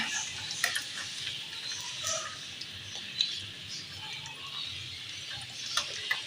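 Keema samosas frying over a medium-low flame in a pan of oil give a quiet, steady sizzle with faint crackles and small pops scattered through it, and no one speaks.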